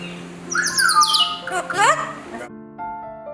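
A pet bird squawks and whistles in short bright chirps and sliding calls, close by, with tonal phrases that sound like it is mimicking speech.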